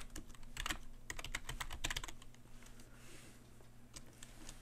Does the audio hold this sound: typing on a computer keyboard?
yes